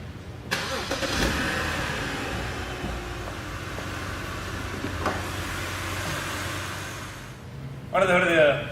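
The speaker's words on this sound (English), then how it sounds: "Under the hood of the BMW 530i, you're going to find BMW's 3-liter inline-six engine" A 2007 BMW 530i with a 3-liter inline-six runs steadily throughout, a continuous engine drone with a brief swell near the start, and a voice breaks in over it at the very end.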